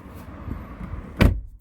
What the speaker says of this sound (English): Just have a listen to how solid the doors are.